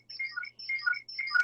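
Phone ringtone playing in repeated short melodic bursts, three phrases with brief gaps, clear and alone.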